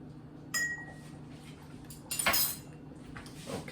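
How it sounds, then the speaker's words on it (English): Canning salt spooned into glass canning jars gives a few sharp clinks of a spoon against glass, one early and a brighter pair of taps later, with quiet handling noise between. "I'm going to put 1 teaspoon of canning salt in each jar"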